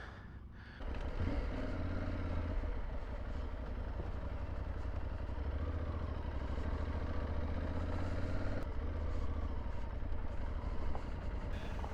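Adventure motorcycles climb a seven-mile route toward the top of Kanaday Peak on the Wyoming Backcountry Discovery Route, their engines droning steadily and close after a brief quieter opening, with a short dip partway through.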